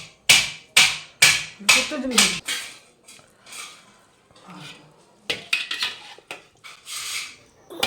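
Dishes and cutlery clatter in a burst of sharp clinks and knocks as food is served at a home meal for Maha Shivaratri, then fainter scattered clanks of serving continue with some quiet voices in the background.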